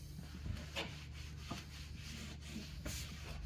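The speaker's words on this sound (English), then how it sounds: "I always give it a good wipe down before I put my art blades on" A cloth rubs across a pinball cabinet in soft, quiet swishing strokes, repeating in an uneven rhythm close by.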